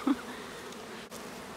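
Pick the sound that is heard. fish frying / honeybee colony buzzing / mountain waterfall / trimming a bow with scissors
honeybee colony buzzing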